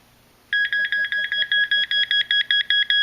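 Macro pinpointer metal detector sounding from its rear speaker, a loud, shrill electronic beep pulsing rapidly and evenly after a moment of quiet.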